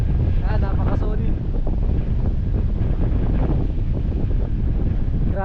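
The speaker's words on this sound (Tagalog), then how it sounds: "Grabe, ang lakas ng hangin dito" Strong wind sweeps a campsite in Pagudpud, Ilocos Norte near windmills, a loud, constant buffeting roar on the microphone, with a voice speaking briefly over it.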